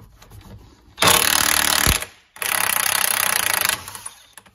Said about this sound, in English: I need to get that nut off, that big nut. So what I'm gonna try and do is use the impact, and it's 30 millimeter that is.